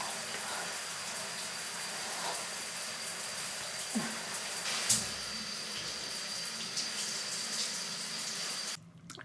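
Steady shower water running in a home bathroom, a continuous close hiss with a brief knock partway through, cutting off abruptly near the end.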